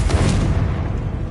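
A deep, booming blast from the Confringo spell in Hogwarts Legacy, a single heavy low rumble that fades over about a second.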